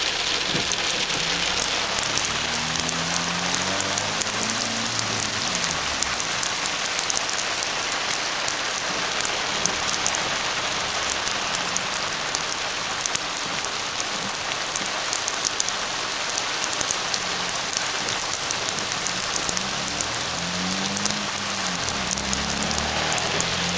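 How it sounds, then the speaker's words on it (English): Steady dense patter of hail striking surfaces during a California winter storm, continuous and loud throughout, with no voices. "Wow, it's hailing."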